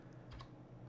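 Brief, quiet keystrokes on a computer keyboard, a couple of soft clicks close by in a short burst.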